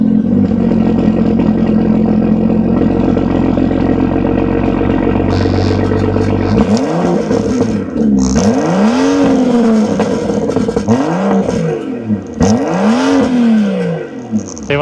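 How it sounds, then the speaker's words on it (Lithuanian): A Jeep's engine runs steadily at idle, then is revved repeatedly in loud rising and falling sweeps, close by with no talk. "Tai va tokį gražų garsą turim šitam automobiliui šį kartą ir nekala"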